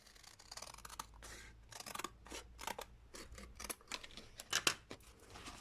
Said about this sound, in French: Je vais découper les angles.